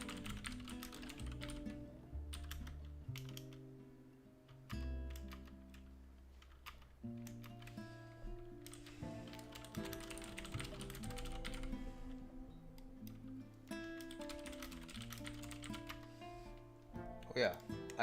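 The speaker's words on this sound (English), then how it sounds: "now I'm writing an email" Fingers type an email on a computer keyboard in quick irregular bursts of clicks, heard under other steady background sound throughout.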